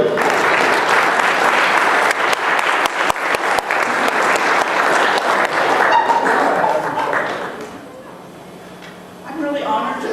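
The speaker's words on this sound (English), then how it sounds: "please give a round of applause for the Associate Dean of the College of Education, Dr. Linda Thurston." Audience applause at an academic event welcoming a college of education associate dean: loud sustained clapping from a large crowd for about seven seconds, then tapering off into quieter room sound.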